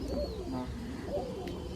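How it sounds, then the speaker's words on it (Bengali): Pigeons coo softly inside a pigeon coop at dusk, a few faint, low, rounded calls heard briefly and alone. "এই দেখো কত পায়রা এইখানে আছে"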